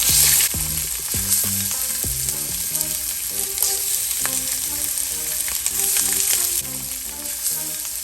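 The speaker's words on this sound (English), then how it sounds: "It's time to sear our shrimp." Shrimp sear in a hot, smoky pan with a steady, loud sizzle and crackle, close up, alongside scattered clinks and light stirring knocks and no voices.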